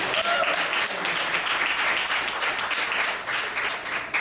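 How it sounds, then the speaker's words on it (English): Audience applause at a ballot celebration event for a Socialist Alternative campaign, a steady, dense wash of clapping from a crowd that holds loud and even for several seconds. "we should give Parma another round of applause."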